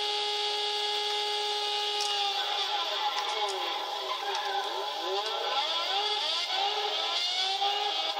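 Red Bull X2014 race car drifting in the Gran Turismo 6 video game, a steady high engine whine with sweeping tire-squeal tones bending up and down throughout, loud and continuous with no voices.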